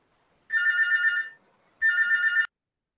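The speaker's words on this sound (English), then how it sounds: "I'm hearing ringing phone." A telephone rings through an online meeting microphone, two electronic trilling bursts separated by a short pause, loud and clear against near silence.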